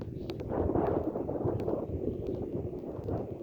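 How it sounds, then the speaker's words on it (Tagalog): Wind blowing outdoors and buffeting the microphone, a low rumbling, gusting roar with uneven surges that lasts throughout, moderately loud and without talk. "mahangin nga lang ngayon"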